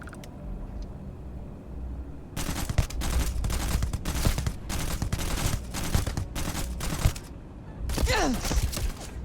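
Enemy gunfire in Starfield: after a quiet stretch, loud bursts of automatic fire crack in repeated volleys with short gaps between them, ending in one final burst.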